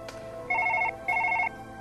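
Two electronic telephone rings, each a steady warbling tone lasting under half a second, with a short gap between them, heard clearly over a quiet room during a Surgeon Simulator 2013 recording session.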